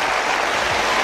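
Crowd in a large arena applauding a figure skating free dance at the 1983 World Championships, a dense continuous wash of clapping and cheering that stays steady and loud throughout.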